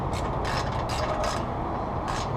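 A ratchet on extensions with a 14 mm socket loosens the bottom motor mount nut on a Nissan Altima 2.5L, a fast, continuous clicking close by in repeated strokes.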